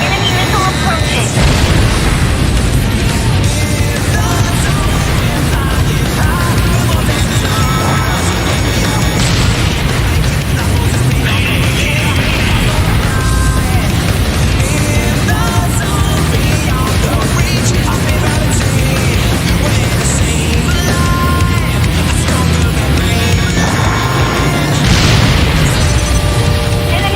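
Missile explosions in the combat flight game Ace Combat Joint Assault, deep booms and bursts over a constant loud roar of jet engines and music, with radio voices speaking at points.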